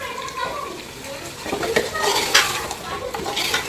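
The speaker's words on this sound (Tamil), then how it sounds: "நல்லா ஒரு 5 நிமிஷம் சிக்கன் வந்துட்டு நல்லா வதங்கி வரட்டும்" Chicken sautéing in a pan for biryani, with a soft sizzle and scraping stirring strokes that pick up after the first second, close and moderately loud.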